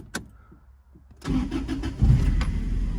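Soft clicks and quiet handling sounds give way to a Toyota Tacoma pickup engine cranking and catching, then settling into a steady, close idle with a rising rumble.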